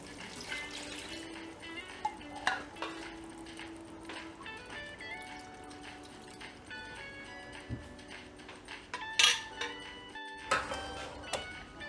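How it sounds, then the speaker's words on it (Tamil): Coconut milk is poured into a pot of Muslim-style chicken biryani, with intermittent liquid splashes and small kitchen clinks and taps scattered across a quiet background. "தேங்காய் பால் 2 கப் ஆட் பண்ணுறேன்."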